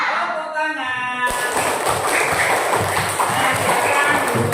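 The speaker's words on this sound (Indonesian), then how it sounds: "Tepuk tangan." A classroom of students breaks into dense, steady hand clapping after a fiqh lesson's group discussion. The clapping starts abruptly after a teacher's short spoken line and continues, fairly close and loud, to the end.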